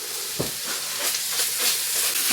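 Miso being stirred into eggplant in a hot frying pan: a steady close sizzle and hiss with occasional soft scraping of the utensil, no talking.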